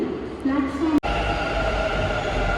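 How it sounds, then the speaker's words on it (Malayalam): A metro train rumbles steadily on an underground platform, with a brief squeal and an abrupt clunk midway, while people talk faintly in the background. "മെട്രോ ഇപ്പോൾ വരും"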